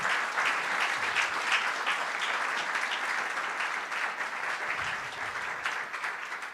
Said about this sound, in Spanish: Denle un aplauso bien fuerte a ellos